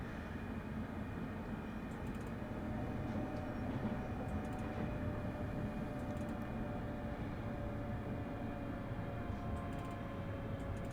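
A train running from Glasgow to Dunblane in the Train Sim Classic game, a steady low rumble of wheels and motors with faint sustained tonal whine and occasional light clicks, continuous and even, no talking.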